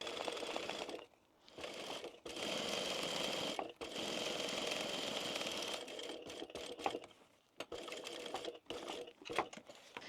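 Bright pink cotton for a Chameleon tote bag runs through a sewing machine, its close, rapid whirring stitch going in long stretches broken by brief pauses.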